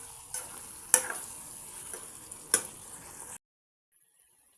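Botti curry simmering in a pan with tomato and ginger-garlic paste is stirred with a few sharp scrapes and clinks over a soft steady sizzle, then it goes abruptly silent.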